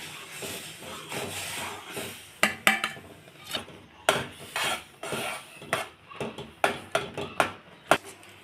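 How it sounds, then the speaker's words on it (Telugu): Semolina is stirred into boiling milk in a pot, a spoon scraping and clinking against the metal in irregular repeated strokes over a soft bubbling hiss, close up with no voices. "ఇలా పాలు మరిగేటప్పుడు రవ్వ వేస్తూ కలుపుకోవాలండి"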